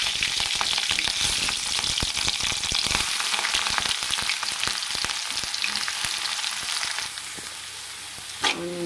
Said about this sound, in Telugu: ఇప్పుడు ఆనియన్స్ పచ్చిమిరపకాయలు వేసి వేయించుకున్నాను